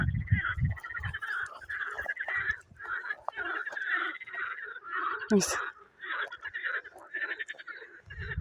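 A springtime frog perched on a stone keeps up a long, dense, honking croak from close range, nearly unbroken for several seconds, with a sharp squeak in the middle.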